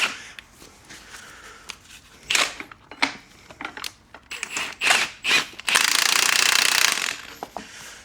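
A spring compressor being tightened on the suspension spring of a Mercedes A45 AMG: a run of short mechanical ratcheting bursts, then one longer sustained buzz near the end, with no talking.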